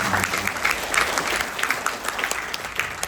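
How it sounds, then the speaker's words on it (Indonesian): An audience at a political speech breaks into applause, a lively crowd of clapping hands with scattered sharp claps that continues steadily at moderate distance. "boleh kasih tepuk tangan."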